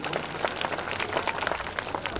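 Audience at a school Republic Day prize distribution applauds a child receiving a first-position prize: dense, continuous clapping from many hands, fairly loud and steady throughout.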